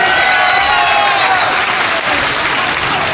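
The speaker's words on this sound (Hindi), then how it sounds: "दोनों हाथों को उठा के ताली बजा के हमारे क्षेत्र में" A large crowd at an Indian by-election rally claps loudly and continuously, a dense, sustained wash of applause filling the whole stretch without a break.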